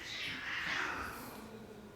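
Cats meowing close by, a few drawn-out mews running together over about two seconds against a quiet room.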